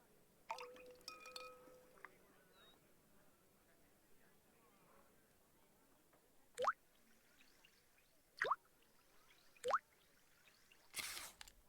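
Solvent drips from a pipette onto paint in a Sherlock Holmes video game; a faint early clink, then three brief, separate drip-like splashes spaced a second or two apart over quiet background.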